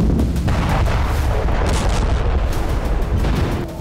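Missile launch and explosion effect tied to the Iran–Israel conflict: a dense, loud, continuous roar layered with repeated heavy booms and thuds throughout, fading slightly at the end.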